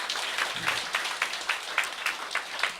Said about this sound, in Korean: 네, 박수 한번 치세요.